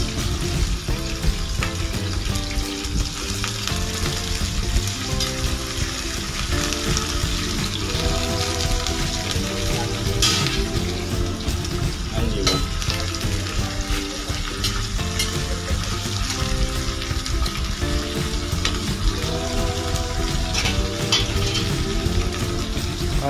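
Long green string beans tossed into a pan of sautéed garlic and onion sizzle loudly and steadily, with stirring clatter and bubbling oil, close up and without speech.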